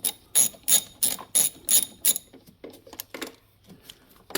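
Ratchet clicking in quick bursts while loosening a fastener on a 2005 Ford Focus engine, close and crisp, with a handful of rapid pawl-ticking strokes followed by quieter, slower clicks.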